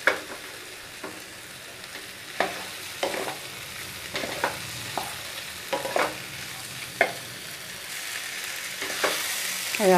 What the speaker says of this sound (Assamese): এইখিনি এতিয়া ভালদৰে এনেকৈ লৰাই ভাজি ল'ম অকণমান ৰংচোৱা হোৱালৈকে।